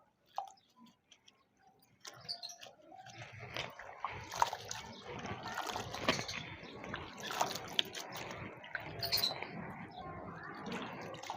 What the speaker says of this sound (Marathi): पण आपण एक पाण्याने याला मस्त धुवून घेऊ